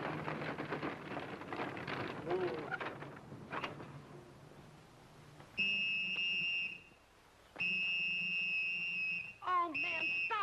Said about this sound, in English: Oh, man, stop blowing that whistle.